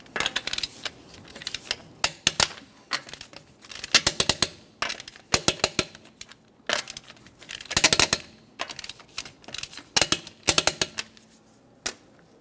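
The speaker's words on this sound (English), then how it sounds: "we'll be torquing these in a crisscross manner." Torque wrench tightening lug nuts on a 2011-2020 Toyota Sienna wheel in a crisscross pattern, giving close, crisp metallic clicks in short bursts separated by brief pauses, with no talking.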